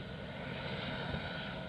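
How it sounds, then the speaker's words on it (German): Helicopter patrolling over a Swedish military test site ahead of a large explosion, heard as a continuous, even engine-and-rotor roar with no talking. "Dennoch patrouilliert ein Hubschrauber, um sicherzustellen, dass sich niemand im Gefahrenbereich aufhält."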